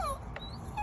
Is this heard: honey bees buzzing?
no